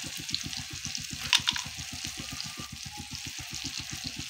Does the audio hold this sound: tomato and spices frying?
yes